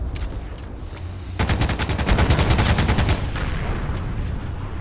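Rapid gunfire from a scoped rifle in the WWII shooter Heroes & Generals, a burst of about a dozen sharp shots in quick succession over a steady low battlefield rumble, fairly close and loud, with no talk.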